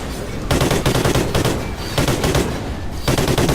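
Rapid automatic gunfire from Call of Duty Ghosts, loud and dense, with bursts chattering continuously and brief gaps between volleys across the whole stretch.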